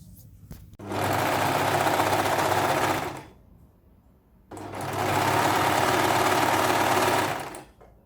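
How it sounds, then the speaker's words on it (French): A sewing machine runs a zigzag stitch around swimsuit elastic in two loud, steady bursts of about two and three seconds, separated by a short pause. "retourner comme ça sur l'envers, hop, et faire un petit point zigzag tout autour"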